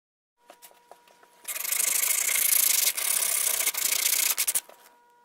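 A jigsaw buzzes steadily through wood for about three seconds after a few light taps, then stutters and stops in short bursts, loud and close.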